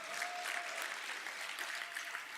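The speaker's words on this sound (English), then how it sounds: "Another round of applause for them." Audience applause for performers at a school opening ceremony and stage presentations, steady, fairly quiet clapping from a crowd that holds evenly throughout.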